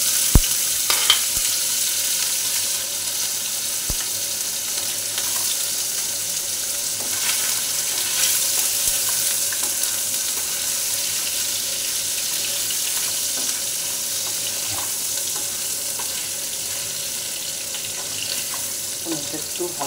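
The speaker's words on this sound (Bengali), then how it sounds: "পনিরটা একটু হালকা ভেজে নেব।" Paneer fries in white mustard oil with cumin in a pan, giving a continuous close, even sizzling hiss that holds steady for about twenty seconds, with a few faint clinks.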